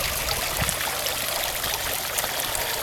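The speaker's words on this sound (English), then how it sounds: "not to drink from the fountain water because it's none too clean" A garden fountain at Government House Gardens in Victoria, BC runs with a steady, continuous wash of splashing water, even and unbroken throughout, with no voices.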